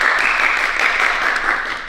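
Audience applause at a Shorinji Kempo self-defense demonstration for women, a dense, steady patter of many hands clapping at close range that tapers slightly at the end.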